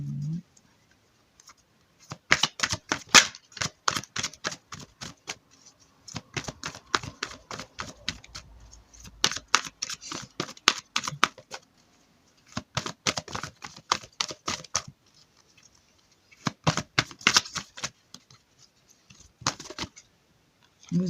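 Oracle cards from a Gaia oracle deck being shuffled and handled, giving repeated bursts of quick crisp flicking and riffling close by, separated by short pauses, with no talking.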